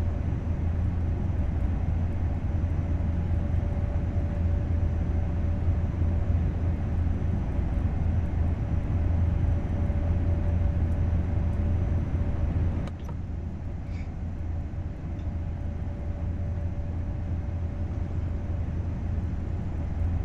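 ICE 3 (BR 403) high-speed train with a sound mod in Train Sim World 4, standing at a platform on the Munich–Augsburg line: a steady loud mechanical drone and hum that drops slightly partway through, with no talk.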